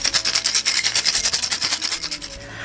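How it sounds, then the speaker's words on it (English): A spray bottle shaken in quick, rhythmic bursts, giving a close, steady rattle with no talking. "Now I'm going to be doing just a little rattle."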